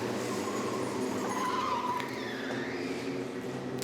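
Micro Max racing karts run at Zwartkops Raceway during a 2020 SARMC race round, their engines a thin, wavering whine that rises and falls at moderate distance against a constant rumble of track noise.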